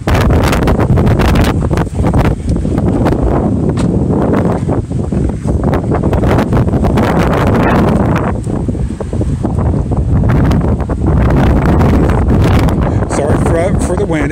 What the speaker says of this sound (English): There is a lot of wind that comes and goes in this video.